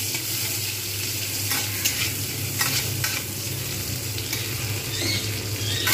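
Onions sizzle and fry steadily in a pan while being cooked down to a reddish brown for a Bengali bhetki fish curry with cauliflower, with occasional stirring scrapes over a constant close hiss.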